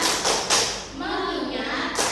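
A classroom group does the tepuk fokus clapping rhythm: a few sharp hand claps in a quick pattern, with children's voices chanting between and over the claps.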